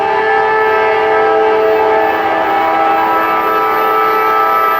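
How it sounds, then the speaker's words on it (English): A Norfolk Southern freight train, NS Train 230 in Jackson, Georgia, sounds its horn loudly and steadily, the sustained multi-tone blast dominating close by over the rumble of the passing cars, with no talking. "It's going to be NS Train 230."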